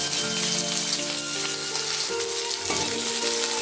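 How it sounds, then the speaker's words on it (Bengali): Chopped onion and panch phoron frying in hot oil in a wok, a loud continuous sizzle and crackle with some tonal clatter, close and without talk. "কড়াইতে আরও কিছুটা তেল দিয়ে দিয়েছি ফোড়নের জন্য দিচ্ছি পাঁচ ফোড়ন দিয়ে দিচ্ছি কুচি করে কেটে রাখা পেঁয়াজ"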